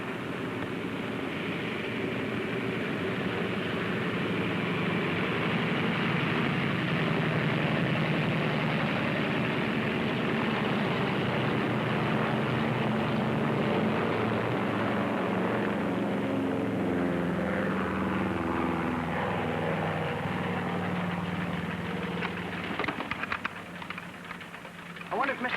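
A propeller airplane engine drones steadily and fairly loud throughout, a continuous idling hum with no break, ending with a brief rustle.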